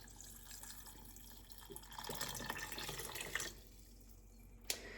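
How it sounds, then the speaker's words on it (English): Water runs and splashes steadily into a pot for several seconds, with a brief clink near the end. "the last thing I'm putting in here is a couple cups of water"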